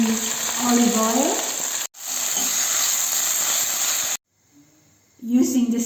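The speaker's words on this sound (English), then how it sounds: "Fresh spinach, I'm just wilting them in olive oil." Fresh spinach wilting in olive oil in a frying pan gives a loud, steady sizzling hiss, broken by two abrupt silences, with a voice speaking over the start and end.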